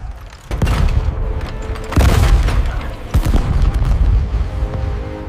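Ship cannons boom in a naval battle, with three deep, heavy blasts at uneven intervals over a constant rumbling din of combat.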